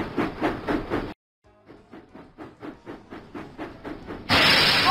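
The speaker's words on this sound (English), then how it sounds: "James puffed proudly into Knapford Station" Rhythmic chuffing puffs of a cartoonish steam engine in a Thomas & Friends video game, steady and mid-loud, after a brief pause, ending in a burst of hissing steam.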